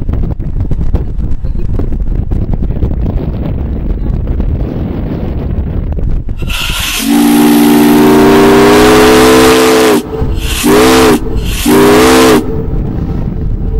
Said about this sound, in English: That's quite the whistle.